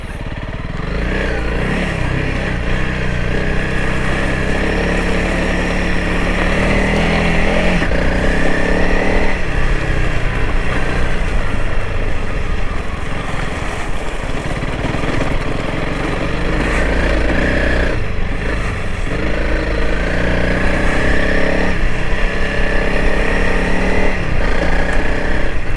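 A 2021 Honda CRF 300L Rally motorcycle rides off-road on gravel, its engine droning loud and close throughout, rising and falling with throttle and gear changes, with wind rush and no talking.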